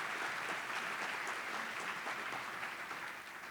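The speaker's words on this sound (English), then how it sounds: "give her a round of applause for sure" A room of guests at a chamber of commerce annual meeting and awards breakfast applauds the outgoing board chair, a full, steady round of clapping that holds evenly and begins to taper off at the end.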